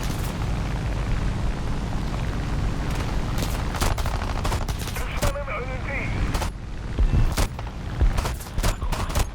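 Rapid bursts of gunfire and booming hits ring out in a jet combat video game as an F-4 is shot down, loud clattering volleys over engine rumble with sharp repeated impacts.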